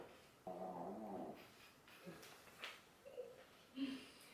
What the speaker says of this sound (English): We have a tired puppy over here.